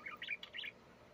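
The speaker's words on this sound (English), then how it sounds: "that's the one who's calling Little Miracle." Pet birds in a cage give quick, high chirps and tweets in short bursts, fairly faint, with no talking.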